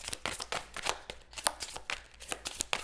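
Tarot cards being shuffled by hand in a run of quick riffling, flapping bursts, close and fairly quiet, with no voices over them.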